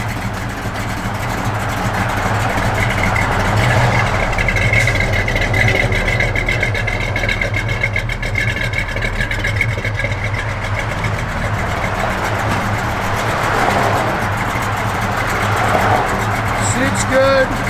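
A 1973 Dodge Dart Sport sits idling nearby, a steady low engine rumble running throughout while someone talks over it.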